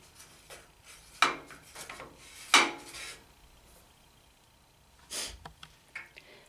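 Sharpening stone rubbed along jointer knife blades in place on the machine, a few distinct scraping strokes and clicks with quiet gaps between them.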